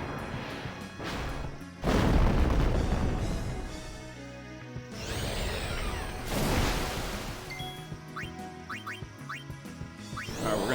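A fire spell lands as an attack in the video game Final Fantasy X HD Remaster, with loud blasting crashes, whooshing bursts and rising magical tones that repeat over about ten seconds, mixed with game music and no talking.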